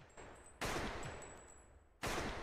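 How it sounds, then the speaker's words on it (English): Two sharp gunshots ring out in Attack on Titan, each a sudden loud blast with a lingering tail, separated by about a second and a half amid a faint high tone. "He shot next to him."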